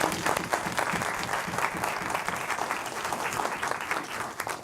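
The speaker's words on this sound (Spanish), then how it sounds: "quien pido un caluroso aplauso" Warm applause from the audience at a lecture event on education in Bolivia after a guest speaker is introduced, continuous dense clapping at a steady level throughout with no voices over it.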